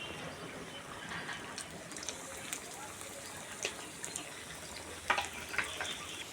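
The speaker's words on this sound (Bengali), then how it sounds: "তেলের মধ্যে আমি একটা একটা করে ছেড়ে দিচ্ছি, আর খুব ভালো করে লাল করে আমি ভেজে নেব" Onion kachori sizzle in hot oil with a soft, steady crackle broken by scattered louder pops and spatters, all fairly quiet and close.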